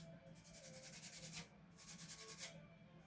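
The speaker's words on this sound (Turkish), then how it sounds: "Onu da yine zımparayla düzeltiyoruz şöyle." Sandpaper rubs back and forth over a hand-carved wooden handle, shaping and rounding it, in rhythmic close strokes of steady scraping with a few louder swipes, fairly quiet and alone.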